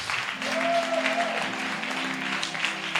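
A congregation at a gospel festival service applauds in a steady, dense wash of clapping, fairly close and continuous, with a voice singing briefly over it.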